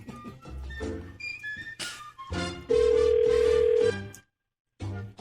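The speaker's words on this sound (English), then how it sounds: "Because I know it keeps ringing." A telephone rings out on a call to a Foot Locker store, with repeated tonal ring bursts separated by short gaps and a steady ringback tone. A few faint sounds come from the caller's end between rings.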